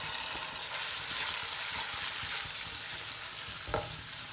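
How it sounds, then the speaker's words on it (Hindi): Ginger and garlic fry in hot oil in a pan with cumin and ajwain, a steady close sizzle with light stirring scrapes and one brief louder clink near the end. "तो थोड़ा फ्राई करते हैं।"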